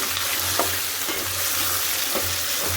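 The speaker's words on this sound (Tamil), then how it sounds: "இதை அப்படியே கொட்டி அப்படியே நம்ம வதக்கிட வேண்டியதாங்க" Onions and tomatoes sautéing in a pan for chutney give a soft continuous sizzle with a few light stirring scrapes, fairly quiet and alone.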